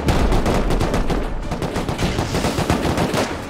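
Gunfire in the survival game Rust: rapid, loud, repeated shots and automatic bursts crackling back to back for several seconds, with no voices.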